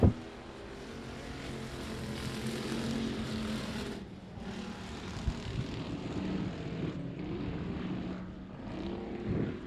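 A race car engine running rough at I-37 Speedway drones loudly and unevenly, its roar wavering and briefly dropping out a few times, with no voices.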